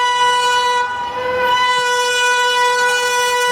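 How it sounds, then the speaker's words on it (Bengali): A train whistle blows one loud, steady, sustained blast, close by and unbroken for several seconds. "এই সিটি মেরেছে ট্রেন সিটি মেরেছে"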